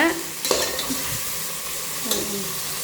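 Chicken biryani ingredients stirred and sautéed in a pan, with a steady sizzle of frying broken by a couple of sharp clacks of the spoon against the pan, close and moderately loud.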